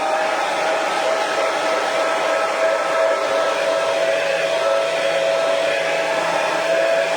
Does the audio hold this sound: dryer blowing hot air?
yes